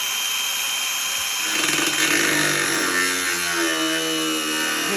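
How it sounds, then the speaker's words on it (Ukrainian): An angle grinder cuts into a GAZ-66 truck bumper, a loud continuous high metallic whine that bites in and rings steadily with a rising harsh grinding edge. "Болгарка працює, подарунок прийнятий."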